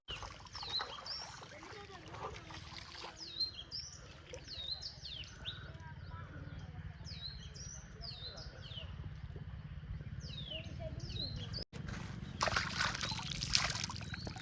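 Feet sloshing in a cool river stream on a sunny outing, with a continuous close trickle and splashing water while birds chirp nearby and people talk over it.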